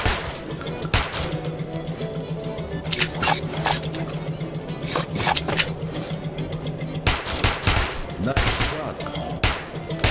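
Gunfire in a gunslinging video game with NPCs: repeated sharp shots and short bursts over a steady low hum, fairly loud, with clusters near the start, middle and end.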